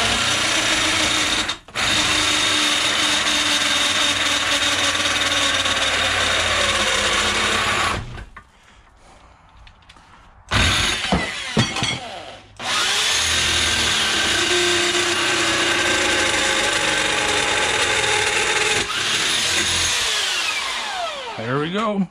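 A SKIL 7.5 amp corded drill grinds steadily through 1/4-inch DOM steel tube for long stretches, with a brief pause and restart; loud, close, and continuous with whining high overtones.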